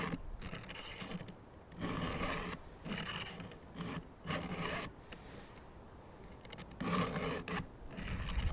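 Repeated rasping strokes of a file sharpening a chainsaw chain, steady back-and-forth rhythm with brief pauses between sets, close and fairly loud.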